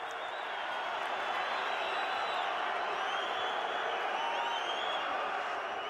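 A boxing arena crowd roars in a sustained, distant wash of cheering and noise, steady and fairly faint, with scattered whistles rising above it.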